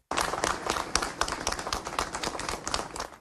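Applause from a crowd at an outdoor memorial march honoring ten fire victims, steady clapping with individual claps standing out, fairly close and continuous throughout.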